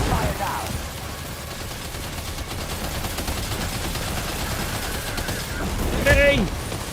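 Gunfire in Death Stranding 2 rattles in a dense, steady barrage throughout, with a brief sharper burst near the end and a voice speaking over it.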